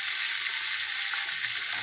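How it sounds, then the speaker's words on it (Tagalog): Chicken pieces frying in a shallow amount of oil, a steady close hiss and sizzle with no talking. "Kailangan 2 manok lang ang ipiprito ko."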